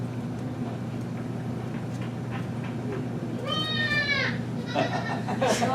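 Young goat kids bleat in a few short wavering cries near the end, over a steady low background hum.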